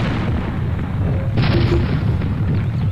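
Airship cannons firing cannonballs in Air Buccaneers, deep rumbling booms under continuous engine and wind noise, one sharper blast standing out partway through, with faint voice in the mix.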